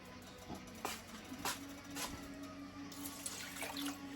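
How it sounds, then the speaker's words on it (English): Two cups of water are poured into a cooking pot of chitlins: a steady trickling splash with a few louder gurgles, over a low hum of kitchen noise. "I'm going to take and put me 2 cups of water in there"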